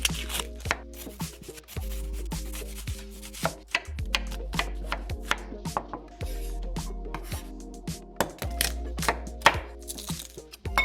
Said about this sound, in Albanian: Do fillojmë duke prerë në copka të vogla qepën edhe hudhrën.